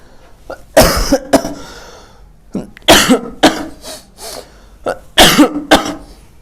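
Someone coughing up close during a class 10 maths lesson, several harsh, loud coughing fits in clusters with short pauses between them, including some throat clearing.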